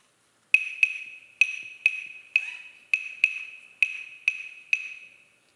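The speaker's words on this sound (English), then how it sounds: "The clave sounds like this." Wooden claves click out an Afro-Cuban clave pattern, ten sharp, bright strikes in a syncopated two-part rhythm that play alone and close, each hit ringing briefly.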